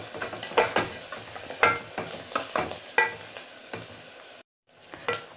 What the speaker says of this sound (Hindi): इसमें हम बेसन को भी डाल देते हैं और इसे हम अच्छी तरह से भून लेते हैं।